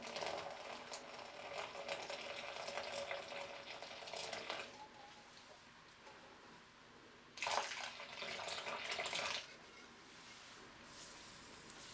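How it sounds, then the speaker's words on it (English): Warm water pours down a blocked sink drain being cleared with drain cleaner, a steady splashing rush that eases off, then surges again briefly before fading. "So I'm going to pour some more warm water down there."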